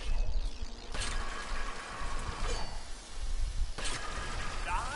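Omni wrench mechanism turning in the video game Ratchet and Clank, a steady ratcheting, geared mechanical churn with clinks, loud and continuous over a low rumble.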